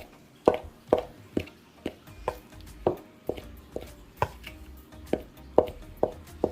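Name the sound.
cutting fat into flour for vegan patty dough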